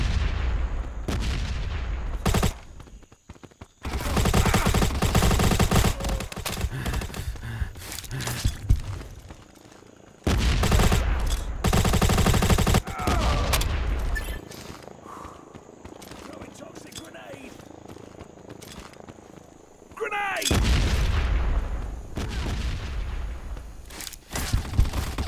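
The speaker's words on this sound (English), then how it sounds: "Grenade out!" Gunfire and a grenade blast in the online shooter game Modern Ops during a 2v2 match, loud bursts of rapid shots and booming blasts coming in long dense stretches, separated by quieter gaps.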